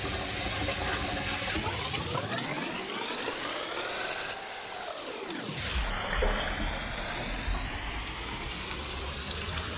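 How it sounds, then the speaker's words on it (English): Running water streams and splashes steadily as basmati sella rice is rinsed, the flow shifting in pitch midway like water filling a bowl, with no talking. "Wash them and let them soak."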